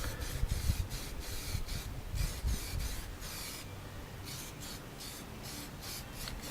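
Aerosol spray can coating a classic Mini wheel in a quick budget refurb, with a fan-nozzle pattern: a steady close hiss in repeated short bursts with brief pauses, alone without talk.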